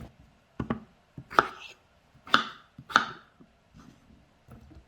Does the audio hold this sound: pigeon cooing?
no